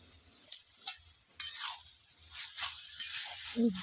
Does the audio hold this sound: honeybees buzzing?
no